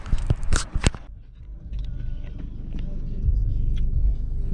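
A car being driven across a college campus in Memphis, heard as a steady low engine and road rumble from inside, with brief clatter at the start before a continuous even drone.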